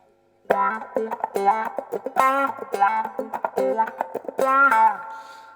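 Electric guitar through a compressor pedal playing a funky riff of short clipped notes and chords, evenly leveled and smooth in attack, with no voices.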